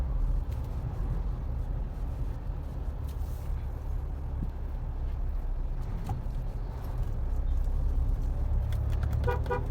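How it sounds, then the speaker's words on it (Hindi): A Mahindra Thar 2022's horn sounds briefly near the end, short bright toots over a low idling engine rumble and faint road noise. "ऐसा बजता है उसका हॉर्न, जो कि एक डिसेंट है।"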